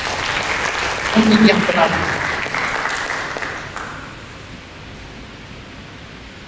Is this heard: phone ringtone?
no